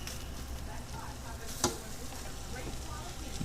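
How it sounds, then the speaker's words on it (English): Smoked sausage sizzles and fries in a pan, a soft steady crackle at low volume with one brief sharp clatter partway through. "I'm going to start frying that up"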